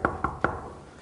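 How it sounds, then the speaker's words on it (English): Someone knocks on a door at the 2011 World Snooker Championship final. Three sharp, evenly spaced raps land in quick succession, followed by a quiet room. "And I'm going to give him a knock on the door."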